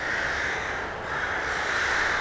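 A dense, continuous clamor of many crows cawing at once, harsh and overlapping, with no pauses, as they mob an Eurasian eagle-owl in winter.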